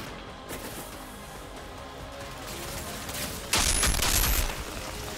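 Gunfire from an enemy in the video game Outriders: a steady run of muffled shots, then a louder, brighter burst of rapid fire near the end, with no one talking.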